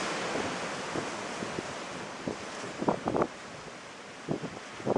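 Waves break along the rocky mainland shore of Acadia National Park in Maine, a steady broadband wash of surf under gusting wind on the microphone, with a few louder surges and bursts of spray toward the end.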